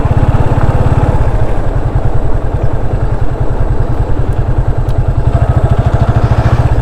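A motorcycle engine idles close by with a rapid, even low-pitched putter that holds loud and steady throughout, a faint clatter riding over it. The bike is about to be parked on a ride out to a temple and reservoir.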